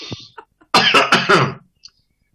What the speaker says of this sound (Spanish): Nos ponemos nerviosos con la tos inmediatamente, así.